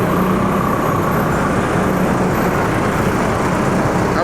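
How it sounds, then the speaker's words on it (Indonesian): Dense city street traffic in Jakarta, where a bus turns left, with a loud continuous roar of engines and tyres, a steady low rumble, and broadband road noise, unbroken from start to finish. "di sini ada bus PJ yang belok kiri"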